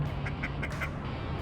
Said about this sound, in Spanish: aquí nos encontramos al Pato Lucas.